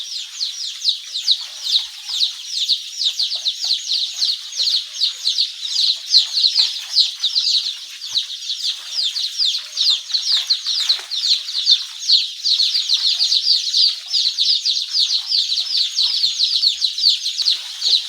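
Hundreds of baby chicks peep continuously in a crowded brooder on their first night, a dense, high-pitched chorus of overlapping chirps that stays steady and close throughout with no talking.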